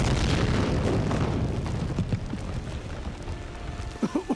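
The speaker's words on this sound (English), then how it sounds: "let's open it with a bit of an explosion, so brace yourself" A loud explosion in the animated series Star Wars: The Clone Wars opens with a broad roaring blast that rumbles and crackles as it slowly fades, followed by scattered debris clatters and a few sharp thuds near the end.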